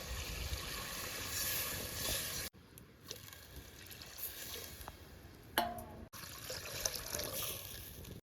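Water poured into a cooking pot over a village fire while making a lepta fish dish, a quiet continuous trickle and splash broken by a couple of abrupt cuts.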